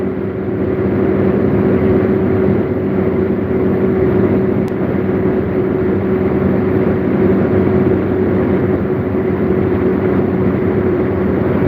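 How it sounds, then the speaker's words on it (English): A fully loaded Maxle super dump truck's engine fan roars steadily as the truck climbs an incline, a loud continuous drone with a constant hum and no talk. "Engine fan kicked on."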